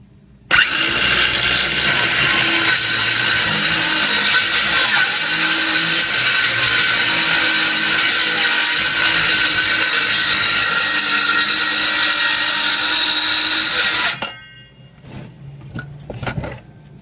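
Circular saw ripping through a wooden raised panel cabinet door for a glass insert, a loud, steady whine of cutting running about fourteen seconds before stopping abruptly, followed by a few faint knocks and clatters.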